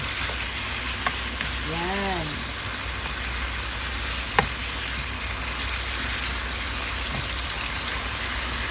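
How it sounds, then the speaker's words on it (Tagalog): Steady sizzling and crackling of chicken frying in a pan, a constant hiss with a few small pops, and a brief voice murmur. "Iprito-prito lang natin siyang ganyan."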